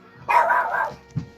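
A dog gives a single sharp indoor bark followed by a shorter, softer yip a moment later, close and clear against a quiet room.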